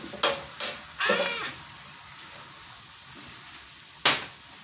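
Breakfast burrito filling with butter and seasoning sizzles on a hot griddle in a steady, moderate hiss, broken by a few sharp scrapes and clanks of a spatula on the metal surface.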